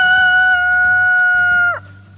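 A rooster crows loudly and close, one long sustained call that breaks off sharply at the end.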